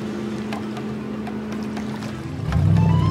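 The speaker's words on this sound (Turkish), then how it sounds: "Vapur adaya doğru yol alıyor." A cartoon ferry chugs through the water toward an island, a steady low motor hum with washing water that swells louder near the end.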